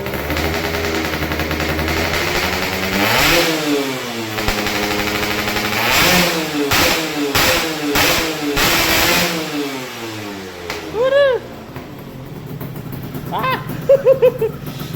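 A Yamaha F1ZR motorcycle with a KY26 aftermarket exhaust revs repeatedly, rising and falling in pitch with crackling bursts, then idles with sharp pops, close and very loud.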